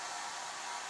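A hair dryer blows in the background of a Prague stay, a brief, steady whooshing roar with no change in pitch or level, alone without voices.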